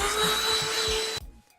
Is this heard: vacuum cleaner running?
yes